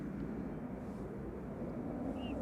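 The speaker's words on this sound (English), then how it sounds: "GEZWI departing there, an A320 Classic." An EasyJet Airbus A320 classic departing from Manchester Airport produces a steady low broadband engine roar, heard from a distance and filling the whole short stretch evenly.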